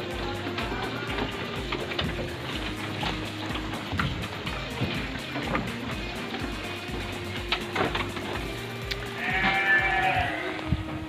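Sheep bleat now and then at a livestock farm stocked with cattle and sheep ahead of Idul Adha, the calls moderately close over steady low farm noise, growing busier toward the end.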